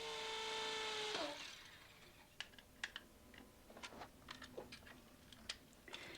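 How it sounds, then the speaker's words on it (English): A power drill bores through a concrete wall for a cable, whining steadily for about a second before cutting off abruptly, followed by scattered light clicks and knocks of work at the wall. "Drill through the wall for the cable."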